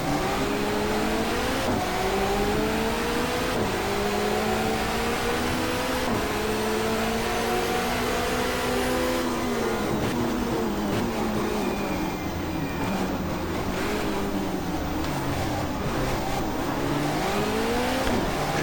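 A touring car in the GTR2 racing game, a 1994 Asia-Pacific Touring Car Championship race, holds a loud, continuous engine drone with rising and falling pitch through gear changes and braking, close and steady throughout.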